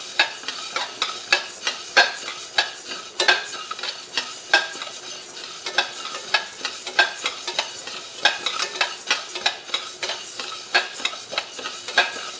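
Green gram (moong dal) dry roasting in a pan, stirred without pause: fast, rhythmic scraping strokes of a spoon across the pan with a light rattle of the grains, close and clear, with no voices.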